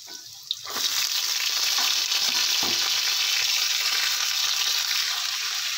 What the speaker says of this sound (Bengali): তো আলুটা দেওয়ার পরেই আমি এবার এই চাল কুমড়োর শাকের ডাঁটাটা দিয়ে দিচ্ছি।